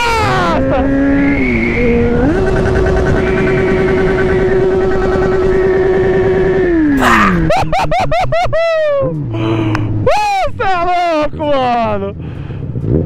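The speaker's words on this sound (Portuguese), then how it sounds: "A moto tá meio torta, ainda tá meio ruim, mas vai dar pra nós dar um grauzinho aqui." A Yamaha XJ6 motorcycle, a bit bent and in rough shape, ridden on a city street, its engine held at a loud steady drone, then revved hard in rapid rising and falling bursts; someone speaks briefly over it.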